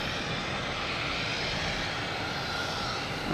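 An Airbus A320 at Boston Logan Airport gives off a steady, broad jet engine roar from a distance, even and unbroken with no other sounds.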